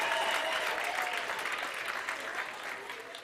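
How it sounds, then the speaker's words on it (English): A crowd at a gala dinner gives a round of applause, dense continuous clapping heard from a distance, fairly quiet and gradually tapering off. "Give that lady a round of applause from the Northern Cape."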